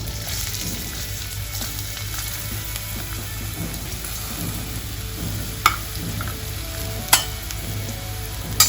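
Chopped onion sautés in about two tablespoons of oil in a kadai with a loud, steady, rain-like sizzle, and a few sharp clicks of a spatula hitting the pan break through near the end.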